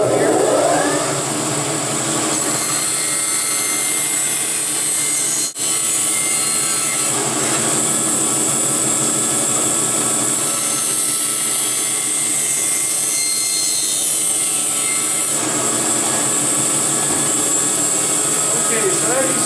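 A large bandsaw hums steadily with a high whine while cutting through wood, close and continuous, its pitch shifting as the blade bites, with a voice speaking briefly.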